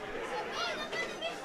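Football crowd at a Beavers v Chippenham match, a steady murmur of chatter and encouraging calls from the stands building before a penalty kick, continuous and moderately distant.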